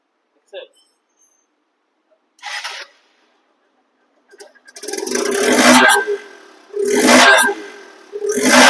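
A Hero Hunk motorcycle engine, a 2020 model, revs in loud bursts, a few short blips followed by longer roaring pulses that rise and drop away.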